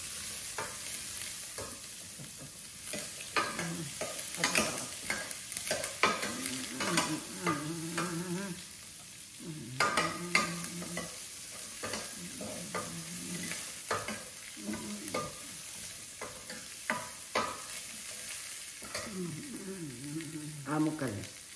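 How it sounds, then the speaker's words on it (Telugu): Onions sizzling and being stirred in tempering oil for sambar, a steady close frying hiss with repeated scraping stirs throughout and occasional voices in the background. "పోపు వేసి ఉల్లిపాయ వేశారు."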